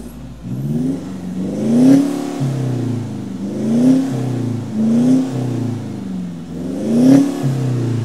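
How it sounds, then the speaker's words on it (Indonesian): A modified 4N15 diesel engine in a car revs repeatedly, with four rising and falling blips separated by a steady rumbling idle, loud and close with no talk. "Nah, sekarang kita dengar suaranya si Anis."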